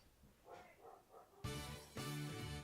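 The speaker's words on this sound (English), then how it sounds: "Clearly, my dog is having fun." A small dog in a game yips and barks in short bursts, a few soft yaps followed by two louder, close barks.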